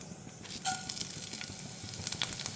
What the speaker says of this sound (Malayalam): ഓയിലൊന്ന് ചൂടായി വരുന്ന സമയത്ത് നമുക്കിതിലേക്ക് ഒരു അര ടീസ്പൂണോളം പെരിഞ്ജീരകം ചേർത്ത് കൊടുക്കേണ്ടതുണ്ട്